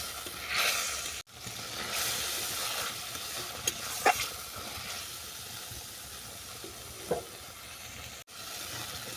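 A curry of water-lily roots simmers in a pot after ground spice water is added, giving a steady soft bubbling sizzle with a few faint clinks of a utensil, and no talking.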